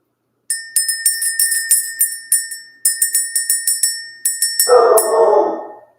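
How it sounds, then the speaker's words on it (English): A small bell struck again and again in quick, uneven bursts, each strike ringing bright and clear before it fades. Near the end, a softer, lower sound joins in under the ringing. "Let's go ahead and ring the bell."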